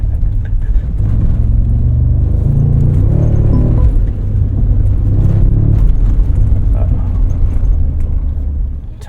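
A Ford Raptor driving off-road gives a loud, steady low rumble of engine and tires that stays close throughout, with the drone swelling slightly midway.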